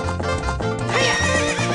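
A horse neighs loudly in Ocarina of Time, a long whinny over rhythmic hoof clip-clops, close and prominent with no talk.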